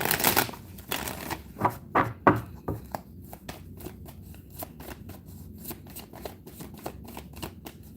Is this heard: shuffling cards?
yes